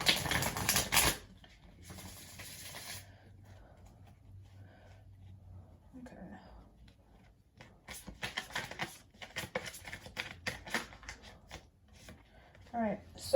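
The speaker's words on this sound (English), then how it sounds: "let me shuffle this good for a second" A deck of tarot cards is shuffled by hand in short riffling bursts at the start and again in the second half, close and fairly loud, with quiet gaps and a voice talking between.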